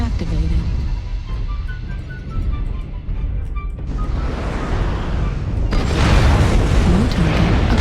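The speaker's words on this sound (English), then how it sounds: "Artillery strike activated." Artillery strike explosions from the mech combat game MechWarrior Online, heavy booming blasts that build into a dense, loud roar of detonations in the second half, with a voice speaking over the barrage.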